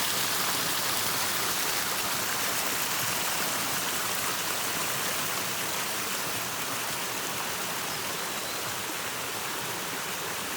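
Water pours steadily down the lower tier of Ari Doi waterfall at Pha Nok Khao, a dense, even roar of falling and splashing water close by, unbroken throughout with no voices.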